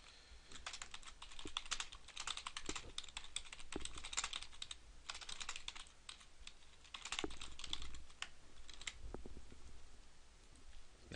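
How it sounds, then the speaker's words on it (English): Rapid clicking of keystrokes on a computer keyboard as a message is typed, a steady close-up patter of taps with brief pauses, no voices. "Select the user, and then you can type a message."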